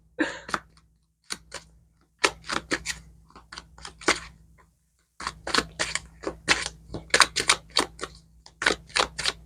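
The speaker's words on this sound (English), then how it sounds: "am actually shuffling, I swear." Crisp, rapid riffling and snapping of tarot cards being shuffled, coming in uneven bursts with short pauses between, close and fairly loud.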